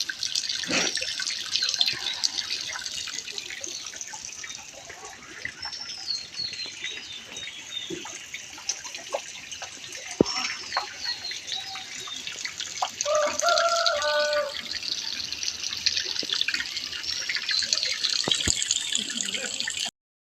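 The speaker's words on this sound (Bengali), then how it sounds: "চলো বাসন কটা ধুয়ে ফেলি।" Running tap water splashes steadily as dishes are washed in a sink, with occasional clinks and faint birdsong in the background, continuous for about twenty seconds without talk.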